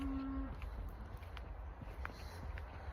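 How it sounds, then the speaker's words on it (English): A cow moos once, a short sustained low call at the start, faint and distant in an outdoor setting, followed by quiet background rustle and scattered small knocks. "Do you hear that cow?"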